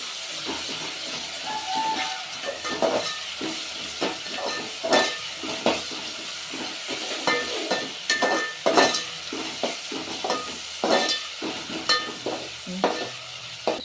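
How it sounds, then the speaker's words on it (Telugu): Ginger and garlic fry in oil for a chicken curry, a soft sizzle broken by irregular stirring scrapes and clinks, moderately close with no talk. "అల్లం ఎల్లిగడ్డ కూడా మంచిగా నూనెలో వేగనియాలి"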